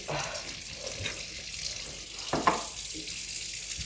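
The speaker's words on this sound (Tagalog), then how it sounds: "Maghuhugas tayo ng plato at baso." Cold tap water runs steadily into a kitchen sink while plates and glasses are washed, a soft continuous stream close by with a faint clink or two and no speech.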